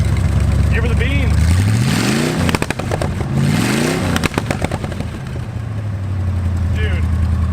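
An abandoned muscle car, started for the first time in 35 years, revs hard twice with rising engine sweeps and sharp popping bursts, then drops back to a rough, loud idle.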